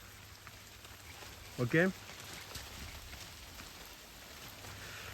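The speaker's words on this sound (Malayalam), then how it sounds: "മഴ പെയ്യുന്നുണ്ട്" Rain falls in a plum orchard in misty Kanthalloor, a soft, steady patter that runs faintly throughout, broken once by a brief spoken word.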